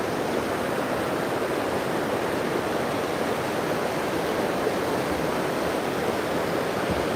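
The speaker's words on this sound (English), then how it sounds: "look how much water we've had coming off the mountains at the moment" A river swollen with runoff from the mountains at Port de Soller, Mallorca, rushes in a dense, continuous roar of water, steady and fairly near, with no voices over it.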